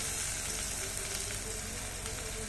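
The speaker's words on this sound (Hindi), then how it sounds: "अब इसको हम थोड़ा भूनेंगे।" Ginger garlic paste, chopped ginger and green chillies frying in a pan, a continuous close sizzle with light stirring underneath, steady and unbroken, no talking.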